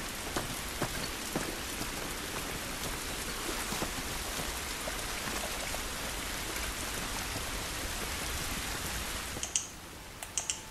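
Steady rain pattering on surfaces in The Last of Us Remastered, a dense continuous hiss of drops that runs the whole time, with a few clicks near the end and no talk.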